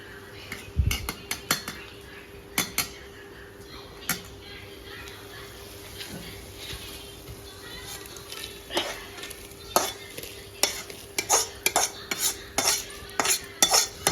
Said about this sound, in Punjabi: ਮੱਠੀ ਮੱਠੀ ਅੱਗ ਤੇ ਹੁਣ ਰਿੱਝਦੀ ਰਹੇਗੀ